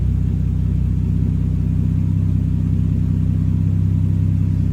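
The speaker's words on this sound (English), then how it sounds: "See, revs are picking up already" Toyota 2JZ engine idling steadily, a loud, close, continuous low rumble with an even pulsing throb and no voices.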